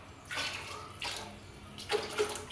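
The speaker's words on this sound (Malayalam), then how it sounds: "വെള്ളം രണ്ട് പാട്ട വെള്ളം ഒഴിച്ചു കൊടുക്കാം" Water poured in three separate splashing bursts into a pot of coconut milk for coconut rice, close and moderate in level, each pour lasting about half a second.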